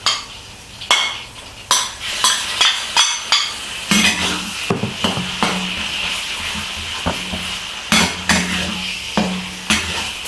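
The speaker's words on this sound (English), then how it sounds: "Then add the marinated pork." Marinated pork for moo shu pork is stir-fried in a pan over low to medium heat. A spatula scrapes and clinks against the metal in a steady rhythm over a soft, continuous sizzle, with no talking.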